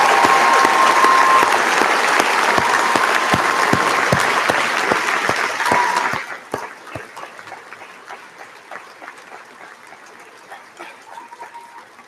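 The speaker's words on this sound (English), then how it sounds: "One more round of applause and congratulations." Graduation convocation applause at the University of Guelph, a large crowd clapping loudly and steadily for about six seconds before fading into a softer, more distant patter with scattered claps.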